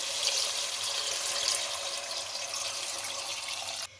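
About 1.5 litres of water is poured into a pot for chicken yakhni. It makes a steady, close rushing splash for about four seconds and then cuts off abruptly.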